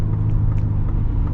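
A 2024 Ford Ranger Raptor pickup truck accelerates, a steady loud low engine rumble heard from inside the cab, droning evenly throughout.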